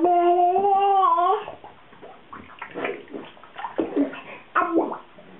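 A voiced babble rings out first, then irregular close splashes follow as the child dunks and rinses her face in bathwater, with splashing bursts strongest near the end.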